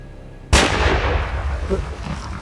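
A single sharp, loud rifle shot fired at an elephant's frontal brain during a hunt in Zimbabwe, cracking suddenly after a quiet moment and trailing off in a long rolling echo.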